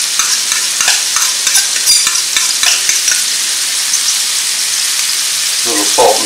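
Garlic sizzles steadily in a hot pan for ground beef goulash, a dense continuous crackle with scattered sharper pops and a few stirring scrapes near the end, close and fairly loud with no talking.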